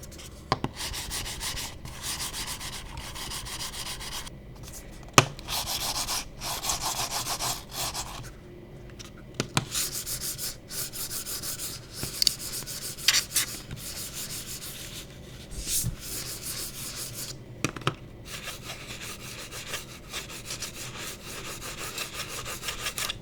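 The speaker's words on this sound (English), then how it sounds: "let's go ahead and drop a sound test on just a couple of different types of skates" Mouse skates sliding across a glass mousepad, a continuous soft scratchy rubbing with uneven strokes and a few sharper ticks, close and fairly quiet, with no voices.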